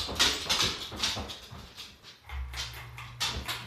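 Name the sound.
dogs walking on laminate floor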